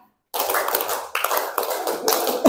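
A group of students and teachers at a school gathering clap in a counted rhythmic pattern, with sharp, loud, unison bursts of claps in quick succession after a brief silence.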